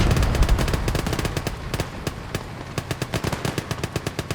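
Rapid machine-gun fire in the World War II strategy game Gates of Hell, assaulting Isigny, rattles in dense overlapping bursts, then thins into a steady, evenly spaced string of sharp shots.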